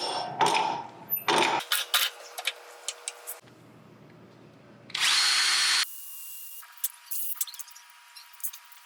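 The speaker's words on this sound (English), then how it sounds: "stick it back in this way to drill our hole." Power drill bursts drilling holes in knife stock: several whirring runs of a few seconds each, loud and close, separated by brief pauses and small clicks.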